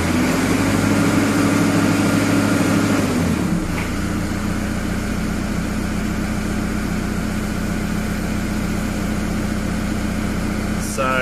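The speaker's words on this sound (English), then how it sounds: "The tractor's speeding up and also revving up together." An Antonio Carraro Tony TR10900 tractor in automotive mode, its engine droning loudly as the pitch climbs and then settles into a steady, gritty revving hum that runs continuously throughout.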